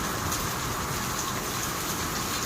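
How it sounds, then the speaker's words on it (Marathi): Heavy rain falls steadily in Dubai, a dense continuous hiss of downpour with no voices and no breaks. "इथे किती पाऊस पडतोय"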